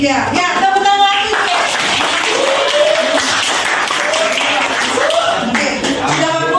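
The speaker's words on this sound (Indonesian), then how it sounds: "tepuk tangan lagi." Indonesian schoolchildren in a classroom clap their hands together in a lively burst, mixed with high children's voices calling out over the clapping throughout.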